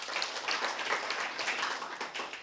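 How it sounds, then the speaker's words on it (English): Audience applause at a youth accountability charter convention, a steady wash of many hands clapping at moderate distance, fairly quiet and even throughout with no voices over it. "Please give a round of applause to Group 6."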